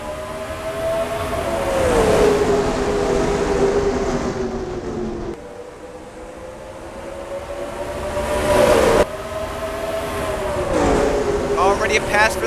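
A pack of stock cars at the green-flag start of a NASCAR Racing 2003 race at Richmond, with engines whining upward through repeated gear shifts, loud and continuous.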